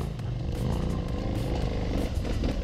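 An adventure motorcycle, with a 950 mentioned in the group, rides off-road with a close, continuous rough engine drone and some clatter.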